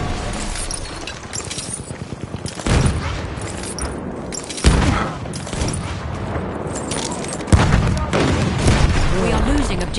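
Thrown grenade detonating in Battlefield 1 among ongoing gunfire, with several loud booms spaced a couple of seconds apart over continuous battle noise and people talking.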